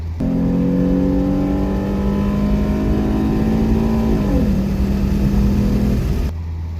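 A Ford Mustang 3.7 V6 with a performance economy tune accelerates hard under a loud rising engine drone, pitch climbing steadily before dropping at a gear shift partway through, then holding before cutting off, close and with no talking.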